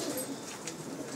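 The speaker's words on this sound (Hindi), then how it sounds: "बहुत नायाब कबूतर हैं माशाल्लाह" Soft low cooing from pigeons, a continuous murmur against a faint noisy background, with no one talking.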